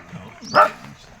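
A single short, sharp dog bark, close and fairly loud, rising out of quiet background murmur.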